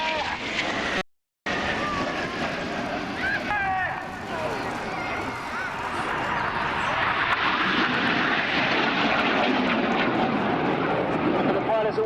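RAF Red Arrows jets roar overhead at an airshow in Portrush while flying the Carousel, crossing in opposing 360-degree 6G turns trailing smoke; a loud, sustained jet rumble with crowd noise and commentary over it.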